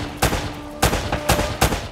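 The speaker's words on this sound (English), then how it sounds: "I'm shooting" Gunfire in Uncharted: Drake's Fortune, four loud, close gunshots in uneven succession, each a sharp burst with a short decaying tail.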